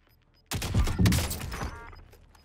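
A burst of gunfire in Call of Duty Warzone starts abruptly and rattles on for over a second of rapid overlapping shots, loud and close, then fades into a tail.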